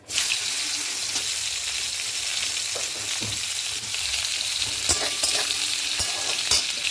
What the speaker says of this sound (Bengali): এই তেলে এবার আমি উচ্ছেগুলো একটু হালকা করে ভেজে নেবো।